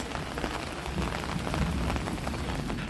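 Heavy rain lashes down in Uttar Pradesh, making a loud, continuous roar of drops pounding surfaces that swells slightly in the middle, with no talking.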